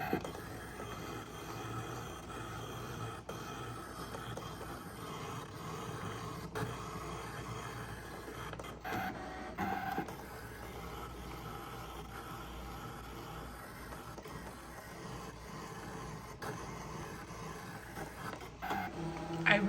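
A Brother ScanNCut DX cutting machine cuts out shapes with a quiet, continuous mechanical whirring and soft clicking as the blade moves, heard alone at low level.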